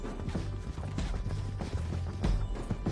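Horse hooves clip-clop steadily in a PS4 video game, a rhythmic clatter of repeated strikes running through the whole stretch over a busy low rumble of game sound.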